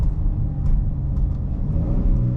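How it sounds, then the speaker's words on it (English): A Chrysler 300S V6 blips its revs on a crisp downshift, a brief muffled whir over a steady low road rumble from inside the cabin. "Now listen to that crisp downshift."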